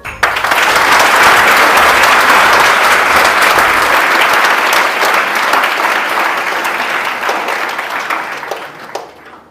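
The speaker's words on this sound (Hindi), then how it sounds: "फिर से जोरदार ताली।" Loud audience applause at a NEET exam motivational session, a thick continuous wash of clapping that swells quickly, holds strong, and tapers off toward the end.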